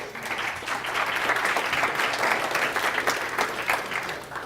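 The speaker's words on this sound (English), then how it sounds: "Give a nice round of applause." Round of audience applause in a lecture-style session, many hands clapping in a dense, even wash that swells slightly in the middle and holds to the end.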